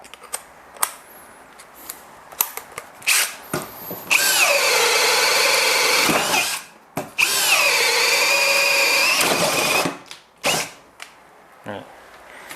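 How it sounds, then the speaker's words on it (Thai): A Makita DF032 cordless clutch screwdriver drilling a small hole, with two sustained high whirring runs of a few seconds each, close and loud, separated by clicks, handling knocks and quieter gaps. "ทั้งคู่ทำงานได้นะครับในการเจาะเล็กๆน้อยๆขนาดนี้สบาย"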